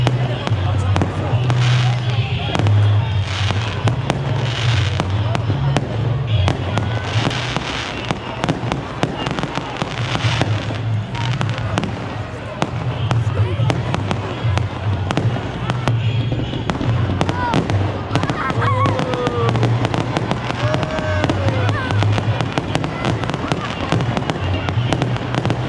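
Christmas fireworks display in Basildon: continuous crackling bursts and booms over 25 seconds, with a low steady rumble and crowd noise and voices in the background.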